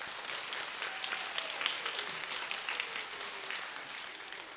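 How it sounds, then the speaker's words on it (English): Crowd applause at an elementary school holiday concert, a broad, soft, steady patter of many hands heard from some distance, with a faint tonal sound sliding underneath. "Let's give him a round of applause."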